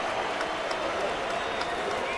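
A baseball crowd at a game cheers and applauds, hoping for a strikeout, a dense, continuous roar of many voices and claps filling the whole moment.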